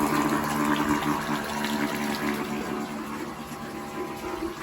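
A solar-powered borehole water pump, run straight from a single 300-watt panel on a test before installation, gushes water in a steady, close, continuous rush with no talking.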